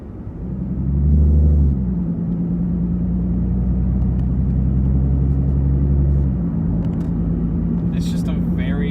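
Ford Mustang 3.7 with a Reaper exhaust cruises gently, heard from inside the cabin as a low, steady engine drone that swells briefly then settles, with a little cabin noise near the end.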